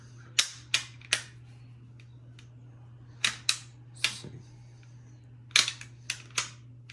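An automatic transmission gear shifter clicks through its positions in quick bursts of sharp, close clicks, grouped in threes, over a steady low hum.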